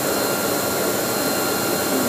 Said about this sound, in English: Shut off the vacuum